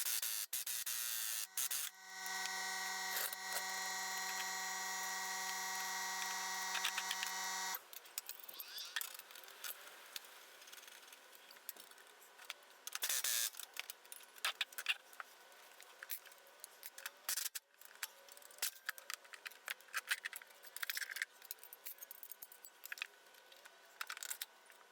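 A Scag mower blade being swapped with a socket wrench, beginning with a steady buzzing whir of a power tool for several seconds, then irregular metallic clanks, scrapes and ratcheting clicks up close.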